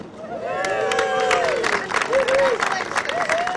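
Crowd at a restaurant ribbon-cutting opening breaks into a short burst of applause and cheering, dense clapping with a few whoops over murmuring voices.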